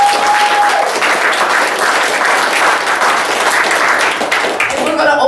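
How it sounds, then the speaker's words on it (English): An audience at an open mic poetry night breaks into sustained applause, a dense wash of many hands clapping close by that thins out at the very end. "Please clap for them one more time."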